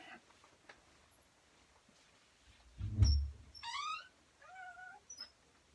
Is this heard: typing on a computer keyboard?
no